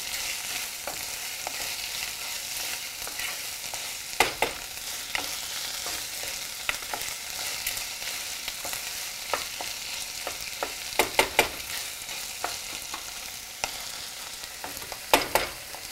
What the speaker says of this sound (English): I'm going to saute it till the onions are golden brown in color.